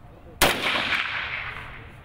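A single sharp assault rifle shot fired at a target during a women's military competition outdoors, loud and close, with a ringing echo decaying over more than a second.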